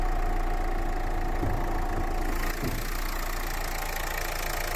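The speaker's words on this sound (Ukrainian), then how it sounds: "Двигун працює тихенько." A 2013 Renault Megane 1.5 diesel engine idles with a steady, even rumble and faint knocking texture, heard close under the open hood and continuous with no voices.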